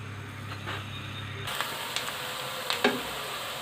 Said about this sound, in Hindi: प्याज को करते हैं फ्राई